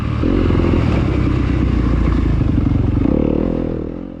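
A Yamaha YZ dirt bike rides an enduro test loop at a sprint enduro in Centreville, Mississippi, its engine droning loud and close with steady revving and a clattering drivetrain that drops in pitch near the end.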